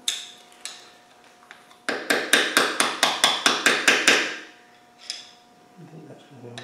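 A chisel is hammered to bend up the tab washer on a 2.25 engine during camshaft and timing gear fitting, with about ten sharp, evenly spaced metallic taps close up and a few scattered knocks before and after.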